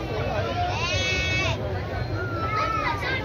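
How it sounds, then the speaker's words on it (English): Lambs bleating in a pen at the Agrofest agricultural show at Queens Park in Barbados, several drawn-out wavering cries over a crowded hubbub of voices and children. "All the baby sheep here."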